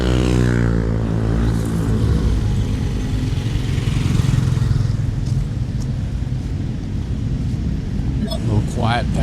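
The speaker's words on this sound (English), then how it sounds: "But it's so noisy walking through that traffic," Dense night traffic on a street in Angeles City, Philippines, gives a steady loud roar of cars and motorbike engines passing close by, with one engine note rising and falling, and no clear speech.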